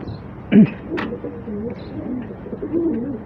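Racing pigeons coo softly in a loft. Low, throaty calls repeat under faint background noise, with a louder flutter or knock near the start.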